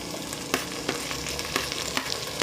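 Tomatoes being stirred into a frying pan while cooking fish-head sinigang in miso, with a steady sizzle and several sharp scraping clicks of the utensil against the pan.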